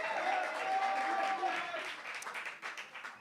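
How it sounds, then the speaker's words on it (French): An audience at a church gathering breaks into applause for a woman, a thick wash of clapping from many hands that holds steady and then thins slightly toward the end, with voices faintly mixed in. "On va applaudir pour elle."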